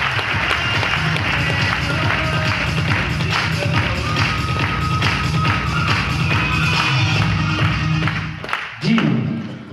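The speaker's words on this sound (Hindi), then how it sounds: "ऐसे गुरुओं के लिए एक बार पुनः आप सबको जोरदार तालियां चाहूंगा" A crowd at a success celebration in Kanker gives loud applause for the gurus, a dense, sustained clatter of many hands with rhythmic beating throughout, fading and tapering off abruptly near the end.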